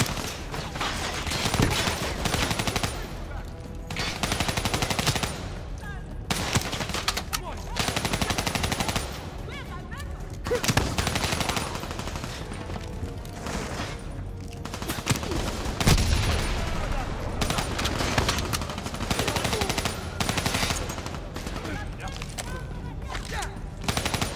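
A mounted gunner's machine gun fires in sustained loud bursts during a rescue operation in Ethiopia in Call of Duty Black Ops 3, with short gaps between volleys amid battle din.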